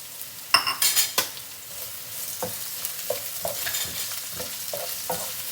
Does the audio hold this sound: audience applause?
no